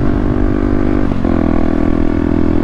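A motorcycle with a Pipe Werx exhaust idles with a steady low rumble, briefly blips the throttle into a quick rev, then settles back to a constant drone.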